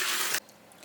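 Running water washes over black beans in a loud, hissing rush that cuts off abruptly, leaving only faint room tone behind.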